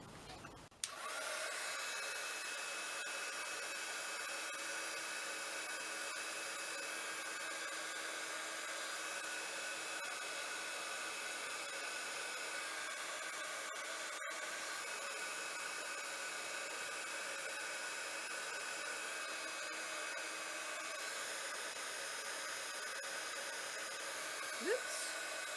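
A heat tool blows a steady, continuous rushing whoosh as it heats shrink plastic scraps into beads, running unbroken at an even level with no talking.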